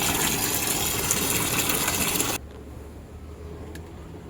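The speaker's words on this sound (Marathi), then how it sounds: "आहूचे नवीन शर्ट्स आहेत व्हाईट कलरचे, तर यांना हाताने वॉश करायचे मला, म्हणजे फक्त पाण्यातून काढून घ्यायचं आहे." Water splashing and sloshing as new white shirts are rinsed by hand, a steady broadband wash of sound that stops abruptly after about two seconds, leaving a quiet room with a faint drip.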